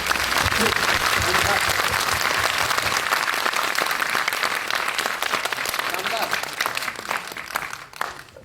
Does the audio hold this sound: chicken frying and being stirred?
no